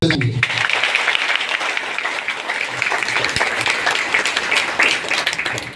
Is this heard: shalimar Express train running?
no